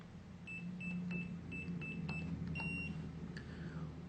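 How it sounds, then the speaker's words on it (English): A door lock keypad gives a string of short, evenly spaced high beeps, quiet and close, over a low background hum. "you should hear a beep"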